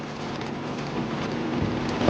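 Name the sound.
rain during a tornado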